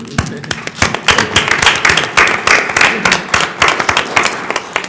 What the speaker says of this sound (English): I'd like to give a round of applause for Mr. Wilson.